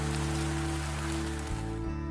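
Heavy overnight rain falls on a forest in a dense, continuous patter, loud and steady, with a sustained tonal hum beneath it.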